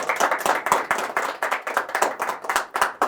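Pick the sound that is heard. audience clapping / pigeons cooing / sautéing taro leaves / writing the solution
audience clapping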